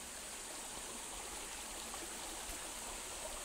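Timbugan Falls in Indang, Cavite pours as a steady, dense rush of falling water, constant and even throughout with no voices.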